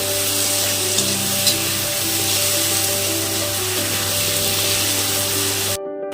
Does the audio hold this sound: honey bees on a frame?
no